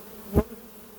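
Honey bee foragers returning to a swarm trap, a single bee buzzing close by for a brief, rising and fading pass over faint steady background hum.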